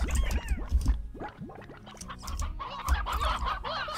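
Cartoonish chicken clucks and squawks from the Slime Rancher video game, a dense overlapping flock of birdlike calls at moderate level with a low rumbling background, no talking.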